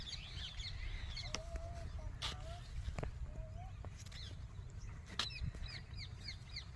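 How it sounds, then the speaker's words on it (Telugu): Parrots call on a farm in open farmland, scattered squawks and whistles at a distance over steady outdoor background, with sharp clicks and a person's voice partly underneath. "వింటున్నారు చిలకల సవర్లు."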